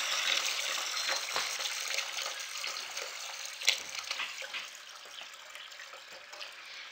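Water runs steadily from an opened thin tube during medical water system maintenance, a continuous splashing trickle, close by, with a brief louder gush partway through and no talking.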